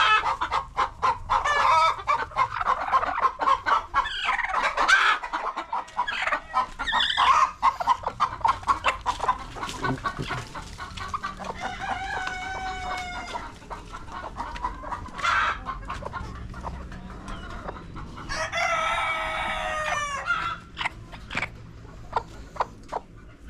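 Aseel hens cluck steadily and repeatedly close by, with a few louder squawking calls breaking through the busy farmyard clucking.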